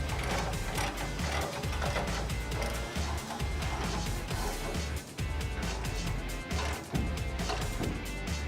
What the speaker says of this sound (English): we're going to use that same 13/16 to tighten these up.